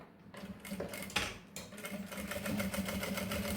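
Sewing machine stitching synthetic trim onto the edge of a mesh pouch, a steady rapid mechanical whir with clicking needle rhythm running close and loud, briefly pausing before resuming.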